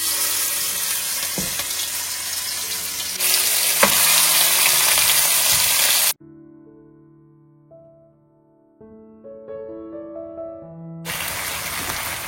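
Marinated mutton frying in a pan, a loud continuous sizzle with stirring, interrupted midway by a few seconds of soft music before the hissing returns.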